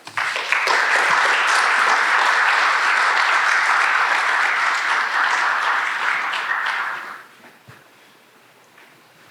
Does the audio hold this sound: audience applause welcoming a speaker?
yes